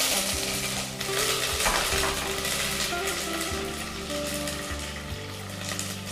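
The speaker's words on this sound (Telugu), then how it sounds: "కరివేపాకు కూడా వేగింది కదండి" Curry leaves frying in hot oil in a pan alongside dried red chillies, a steady close sizzle and crackle with faint stirring clinks, no talking.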